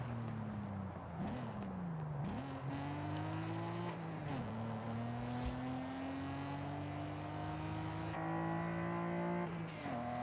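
Nissan GT-R LM race car engine in Forza droning steadily under load, its pitch rising through the gears with brief drops at shifts, loud and continuous with no voices.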